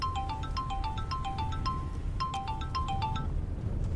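A phone ringtone plays a repeating electronic melody of short beeping notes, loud and steady over a low background hum.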